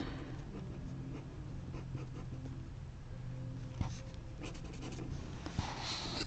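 An alcohol marker colours on paper, a steady scratchy scribbling that continues throughout with a few soft knocks, close and fairly loud.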